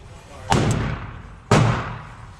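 An Atlas Gunworks Athena pistol is fired at a target 7 yards away, with two sharp reports about a second apart, each loud and close with a short ringing decay, and no voices.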